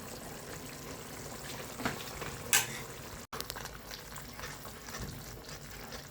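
A thick spiced curd mixture for an egg masala curry slides into a hot sizzling pan, the steady fry hiss swelling briefly as it lands, with a few light utensil scrapes.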